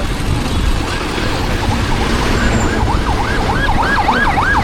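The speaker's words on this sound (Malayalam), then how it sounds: "ആംബുലൻസ് ചീറി പോയോ" Ambulance siren passing on a road near Bekal, Kerala, its wailing tone rising and falling over heavy traffic rumble, growing louder and faster toward the end.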